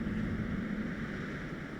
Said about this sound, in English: It is very windy here in game all of a sudden.